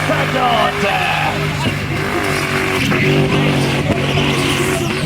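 A BMW with a Lexus engine revs hard while reversing, with squealing tires and a roaring, rising-and-falling motor close by.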